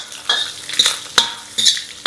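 Sambar onions (small shallots) fry in a pan for idli sambar, giving a steady sizzle broken by four sharp stirring scrapes at roughly even intervals, close and clear with no voices.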